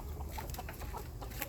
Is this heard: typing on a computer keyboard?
no